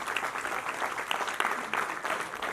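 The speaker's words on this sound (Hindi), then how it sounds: "तालियां बजा दीजिए सर।" Audience applause rises after a Hindi stage play about Bhagat Singh as cast members are introduced, a steady dense patter of many hands clapping at moderate distance with no voices over it.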